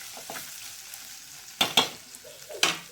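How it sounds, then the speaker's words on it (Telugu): Cowpea pods (alasanda) frying in a pan, with a soft steady sizzle and a few sharp scraping stirs of a utensil against the pan near the end, close and alone without speech. "ఇంకొక ఐదు నిమిషాలు ఫ్రై కానిద్దాం మళ్ళీ మూత పెట్టి అలసందకాయ ఫ్రై అయిపోయింది"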